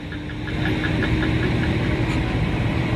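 An older Mack truck engine idling loudly and close by after the rig pulls up at a heavy haulage event, a steady knocking rumble that continues unbroken throughout.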